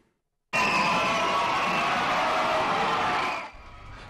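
A huge crowd in Guadeloupe greets judo champion Teddy Riner with loud, sustained cheering and shouting that bursts in suddenly after a brief silence, holds steady and full, then drops off sharply near the end.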